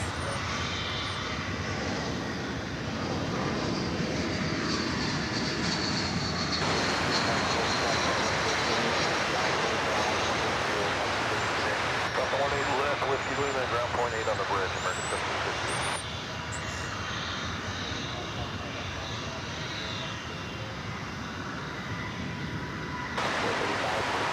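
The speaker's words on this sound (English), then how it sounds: "It's an Airbus A320." An Airbus A320 arriving at DFW Airport, its engines producing a steady broadband roar that persists throughout, with wind noise and people talking over it at times.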